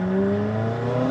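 A loud, steady McLaren 570S engine rumbles at idle with a deep exhaust drone and strong low harmonics, close and continuous.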